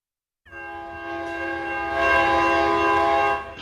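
A train horn blares in a long, steady, loud chord with rumbling rail noise beneath, swelling midway and cutting off near the end, no voices.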